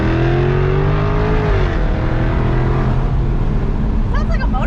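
A powerful V8 engine of a 2022 Lexus LC 500 Convertible revs loudly, its pitch rising then dropping as it settles into a deep rumble, with voices briefly audible near the end.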